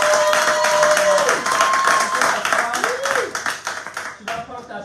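A church congregation claps along in steady, loud rhythm, mixed with singing voices and sustained musical tones that ring over the clapping.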